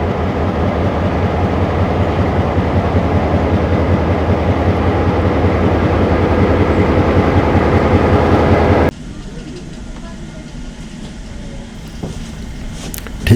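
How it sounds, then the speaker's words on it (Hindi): A train led by the M6 797 locomotive pulls out of Badulla, a loud, continuous rumble of engine and wheels that drops abruptly to a quieter interior running noise partway through. "ठीक 10:20 पे M6 797 लोकोमोटिव के लीड में हमारी ट्रेन नंबर 1008 बडूला से रवाना हुई"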